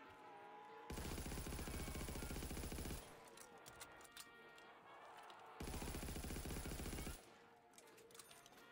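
Automatic shotgun in a Backrooms video game fires in two sustained loud bursts of rapid gunfire, each about two seconds long, with quieter game ambience and clatter between them.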